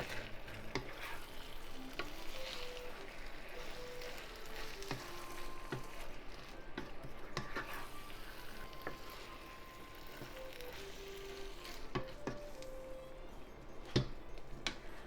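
Pork and tofu mapo stir fry cooking in a pan, a steady close sizzle and frying hiss with soft scraping stirs and occasional clinks, alone without talk, over background music.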